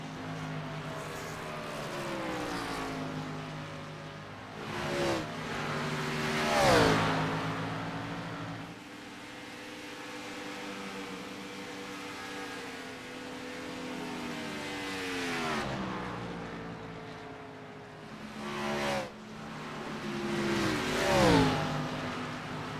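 Race cars in a racing video game lap the circuit, engines droning in layered harmonics that rise and fall as several cars pass close by and pull away, with a few louder swells where the field roars past.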